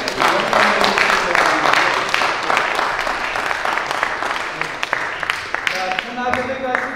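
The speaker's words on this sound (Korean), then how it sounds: "오늘 수고했던 우리 찬양팀들에게 큰 박수로 한번." Church congregation at a Christmas service applauding the praise team, sustained crowd clapping that gradually fades as voices emerge near the end.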